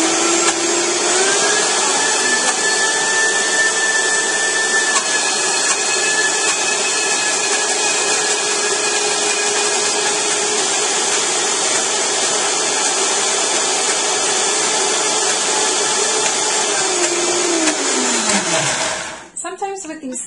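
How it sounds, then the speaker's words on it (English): A blender roars loudly and steadily for a long stretch, its motor straining slightly against a thick nut blend for vegan mayonnaise before winding down abruptly at the end. "you need to play with them and get them going in your blender"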